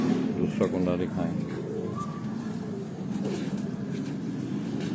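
A pigeon coos in soft, low, rounded notes near the start, heard among pigeon lofts over a steady background hum, with a voice speaking intermittently.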